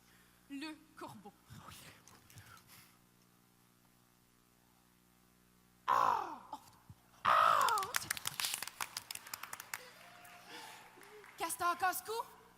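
A person imitates a crow's caw as part of an animal-cry exercise at a gym event, with harsh bursts near the middle and end of the clip after some quieter speech over a steady mains hum.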